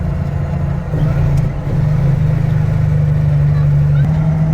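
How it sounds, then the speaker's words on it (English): A truck engine runs at a steady, close drone during a corn harvest, with a low constant hum and a slight dip in loudness early on. "truck sounds pretty good"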